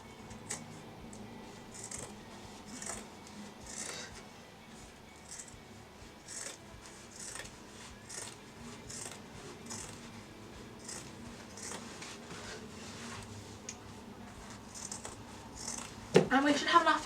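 Scissors cutting through denim fabric taken from jeans, a quiet series of soft rhythmic snips and crunches repeating steadily, close but faint, ending with a louder rustle of handled fabric.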